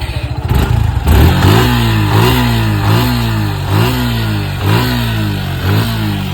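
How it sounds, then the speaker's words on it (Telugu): A 2023 Suzuki Gixxer motorcycle engine cranks and catches, then revs up and down repeatedly in rhythmic surges, loud and close. "వెహికల్ ఇంజిన్ కూడా స్టార్ట్ చేసి చూపిస్తాను మీకు"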